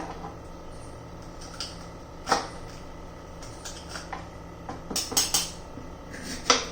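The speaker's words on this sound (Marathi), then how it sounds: "ही भाजी बघा असे लांब लांब लांब लांब काप करून घेते" A knife slices capsicum into long strips on a board, giving irregular crisp chops and knocks close by, some sharper bursts near the end, with no talking.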